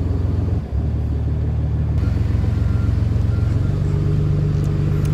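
A 760-horsepower Cummins diesel truck engine pulling a trailer gives a steady, loud, low rumbling drone that holds throughout, with a brief dip early on and a slight shift in pitch midway.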